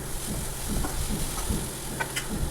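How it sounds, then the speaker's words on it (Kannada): Red amaranth leaves fry in ghee with a steady, close sizzle, and soft stirring scrapes come through at irregular moments. "ಆ ನಂತರ ಕೆಂಪು ಹರವೆ ಸೊಪ್ಪನ್ನು ಹಾಕ್ಬಿಟ್ಟು ಚೆನ್ನಾಗಿ ಹುರ್ಕೊಳ್ತಾ ಇದ್ದೀನಿ"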